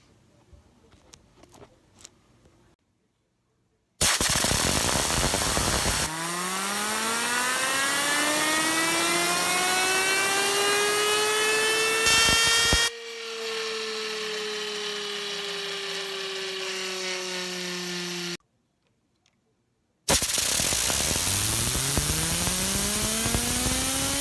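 A Purge bispinner fidget spinner whirs in long, loud stretches with a bright tonal hum that glides up and down in pitch, broken by short pauses between spins.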